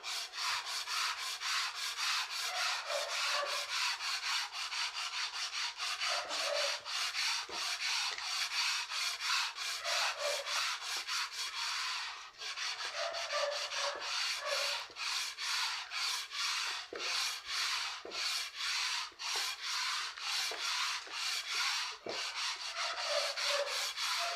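Steady back-and-forth hand sanding with 120-grit sandpaper, with a fast, even rhythm of close, raspy strokes and only brief pauses throughout.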